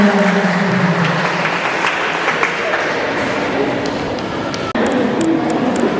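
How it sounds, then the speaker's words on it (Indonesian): Applause rises from the audience at a church congregation choir competition in Papua, a continuous wash of clapping and crowd noise with some voices mixed in. "tepuk tangan yang meriah"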